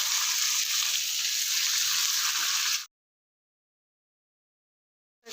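Small-to-medium pieces of chicken (250 grams) fry with ginger and garlic paste, giving a loud, steady, close sizzle for nearly three seconds before cutting off abruptly into silence.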